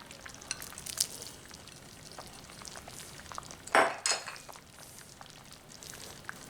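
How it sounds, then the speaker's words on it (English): Ham is stirred into a thick bean soup in a pot, producing soft scraping and a few clinks of a spoon against the pot, including a louder knock midway, with no talking. "We'll stir that in."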